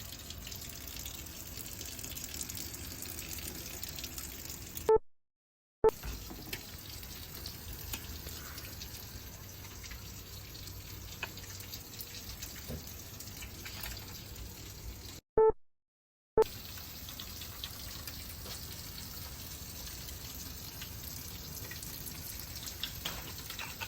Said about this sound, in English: we're gonna wash our hands for 20 seconds before we do our wound change